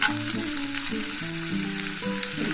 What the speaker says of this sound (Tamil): அதில் வெங்காயம் போட்டு நல்லா பொன்னிறமாக வதக்கலாம்